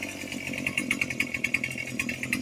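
A small two-stroke chainsaw engine idles steadily after warming up, its close, buzzing drone pulsing in a quick, regular rhythm, with no voices over it.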